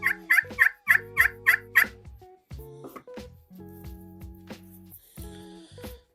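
A turkey call, a crystal call with a wood soundboard, sounds a rapid run of about six sharp yelps, then softer purrs and clucks, close and alone with no talk.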